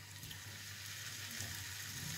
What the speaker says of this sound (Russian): И будем жарить наши трубочки с сыром.